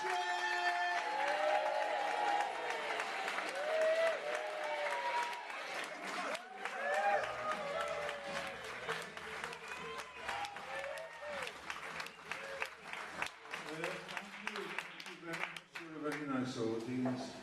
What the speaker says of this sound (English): Can we get that applause back in the room, please?